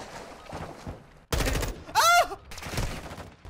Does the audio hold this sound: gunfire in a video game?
yes